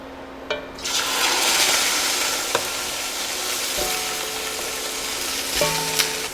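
Pork pieces browning in a little oil in a pot over medium-high heat for a ragu, a sudden burst of sizzling that settles into a steady close crackle, with a few clanks of a utensil on the pot.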